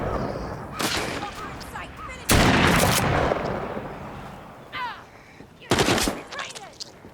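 Gunfire bursts through a fight in the video game The Walking Dead Saints & Sinners, several loud blasts and rapid volleys, with a voice talking in between.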